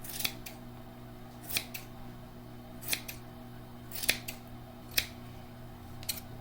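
Scissors trim macrame yarn strings to an even length, with about eight crisp, separate snips spaced unevenly over a quiet low hum, each cut close and distinct.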